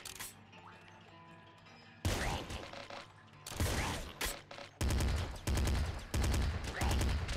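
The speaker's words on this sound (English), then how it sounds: "We've got our Psy Assault Rifle now. Psy Assault Rifle will save us." Psy Assault Rifle fire in the game Nuclear Throne comes in dense, loud mechanical bursts and rattles, separated by short pauses, over quieter game music at the start.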